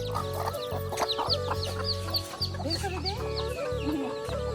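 Domestic village hens clucking among their newly hatched chicks, repeated low clucks under a busy layer of high, thin chick peeps, close and fairly quiet, with no talk.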